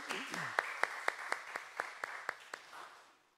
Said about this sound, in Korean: 우리 하나님께 감사의 박수 올려드리시겠습니다.